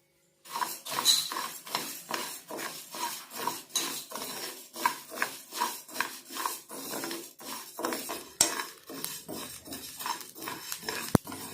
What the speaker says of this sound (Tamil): அப்படியே ஜவ்வரிசி பொரிஞ்சு வருது